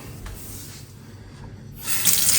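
Tap water runs steadily into a sink at close range, with the flow growing louder and more hissing toward the end, during preparation of a ham-and-cheese puff pastry.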